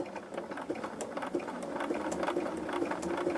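A sewing machine runs steadily along a seam on a quilted Pieceful Baskets block, a soft, continuous mechanical whir with a light rattle heard close but quiet throughout.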